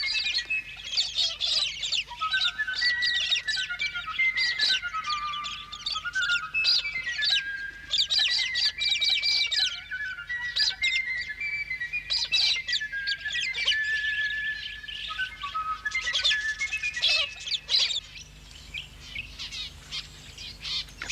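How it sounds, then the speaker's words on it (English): Flock of wild budgerigars in the Australian desert along the Canning Stock Route chirping as they fly, with many bright, rapid overlapping twitters and warbles that keep going throughout at moderate distance. "the swift flight of a flock of budgerigars as they twist and turn in unison, then land to scurry through the grass feeding"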